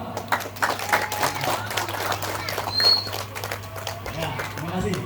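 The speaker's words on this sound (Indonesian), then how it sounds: "Tepuk tangan dong." An audience claps at a ceremony, giving scattered, uneven applause that sounds moderately distant. Voices talk over and around it.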